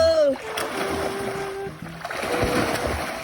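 People splashing in water while bathing outdoors near a tree house, with broken splashes throughout and voices talking and calling over them.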